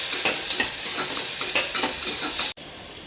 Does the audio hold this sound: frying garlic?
yes